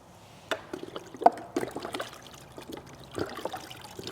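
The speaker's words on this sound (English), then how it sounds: "we're going to pour those in and then we're going to stir those up." Rinseless car wash solution pours into buckets of water and is stirred, giving close, uneven splashing and trickling with a few sharper sloshes and knocks against the bucket.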